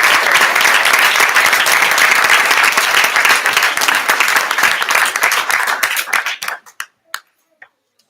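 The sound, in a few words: audience applause at school board meeting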